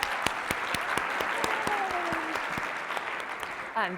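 Audience applause for a volunteer at a medical improvisation talk, steady dense clapping throughout with a voice speaking over it briefly near the end.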